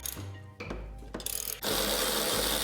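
A ratchet on a 24-inch extension works tight downpipe bolts loose on a 2023 Nissan Z in a home garage, giving close, rapid ratcheting clicks in short bursts with a strained heavy turn between them.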